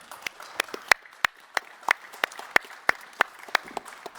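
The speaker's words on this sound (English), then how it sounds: "I was about to invite everybody to give a big round of applause to our panelists, but the audience has been even quicker than me." An audience at the SME Assembly 2024 panel on export and international trade applauds the panelists: sparse, fairly steady individual claps from a small group, sharp and distinct rather than a dense roar.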